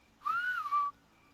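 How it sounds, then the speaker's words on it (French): A character in the video game Horizon Zero Dawn whistles a single clear, gliding tone that rises and then falls, close and loud against a quiet background, lasting under a second. "Obligé de siffler, mais il peut pas parler."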